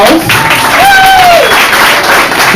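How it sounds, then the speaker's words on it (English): Audience applause at a live comedy show, a steady wash of clapping from a crowd that runs the whole time, with a voice talking over it. "Round of applause."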